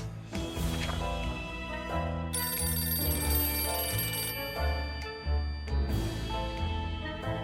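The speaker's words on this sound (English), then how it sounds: "A phone ring just went off." A phone in a nuclear apocalypse video game rings loudly and alone in a repeating electronic trill, with bursts of ringing separated by short gaps over several seconds.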